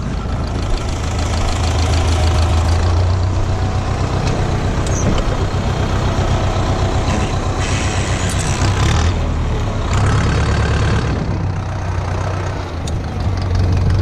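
A Steyr 768 tractor engine running with a sprayer mixing pesticide and liquid fertilizer, a loud, steady, close idling rumble with slight knocking that holds throughout, swelling a little in the middle.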